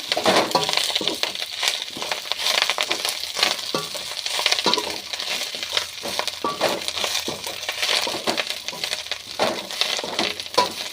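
Curry leaves spluttering and crackling in hot oil while a Tamil thuvaiyal is cooked, a dense, continuous run of sharp pops and sizzle throughout, loud and close with no talking.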